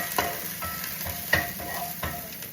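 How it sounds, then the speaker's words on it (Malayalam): Protein sautéing in a pan for an after-gym evening meal, a close, steady frying sizzle with a few distinct spatula scrapes and clacks as it is stirred. "So let's saute this first."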